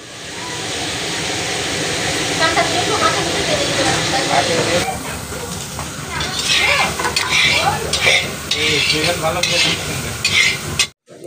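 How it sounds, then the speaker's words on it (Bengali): Potato pieces fry in hot oil with a steady, loud sizzle and hiss, joined later by repeated scraping and stirring clatter in the pan; a voice talks over part of it. "আলুটাকে ভেজে নেওয়া হচ্ছে।"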